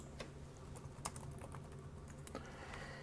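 Light typing on a computer keyboard, sparse scattered key clicks at an uneven pace, faint and close against quiet room background, with no voices.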